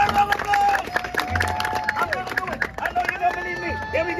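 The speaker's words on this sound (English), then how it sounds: "Somebody give the boy a round of applause!" Crowd applause at a street performance, scattered clapping and cheers mixed with busy crowd chatter while people talk loudly over it.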